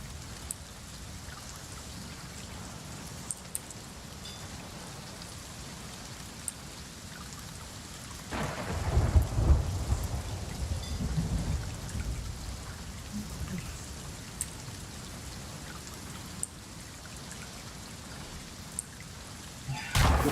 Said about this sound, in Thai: ไม่มีใครยิงพี่ฟ้าผ่าใส่